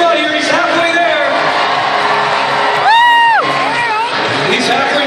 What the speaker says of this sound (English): Folks, cheer him on here.